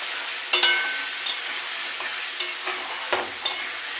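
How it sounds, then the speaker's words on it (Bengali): A pumpkin vegetable curry with salt, turmeric and chili fries in a pan while a spoon stirs it. A steady sizzle runs throughout, broken by several scraping strokes against the pan. "আমি এটাকে আস্তে আস্তে কষি নিয়ে তারপরে আবার আপনাদেরকে দেখাচ্ছি"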